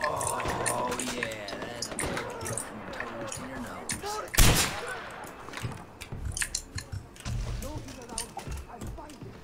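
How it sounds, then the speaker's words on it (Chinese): Machine gun fire in Far Cry 4, heard as scattered sharp gunshot bursts with one strong blast midway, mixed with clattering game effects beneath near-constant chatter from players talking. "还是机枪好用啊！"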